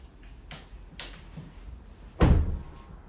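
Powered side step on a fourth-generation Kia Carnival working as a door opens: a few light mechanical clicks, then a louder thud and short whirring motion close by, with no talk.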